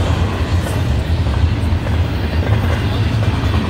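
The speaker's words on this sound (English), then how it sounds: "It's just going 62 miles per hour on a UP freight train." A Union Pacific SD70AH-T4 locomotive leads an intermodal freight train north past the Tangerine Road railroad crossing at about 62 mph, a loud sustained low roar and rumble of wheels and cars close by.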